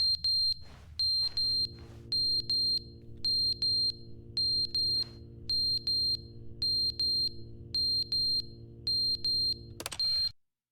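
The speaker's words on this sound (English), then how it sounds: "the carbon dioxide alarm is going off" A carbon dioxide alarm in the video game The Stanley Parable Ultra Deluxe sounds insistent high-pitched electronic beeps in regular paired pulses over a low droning hum, repeating for several seconds before stopping abruptly.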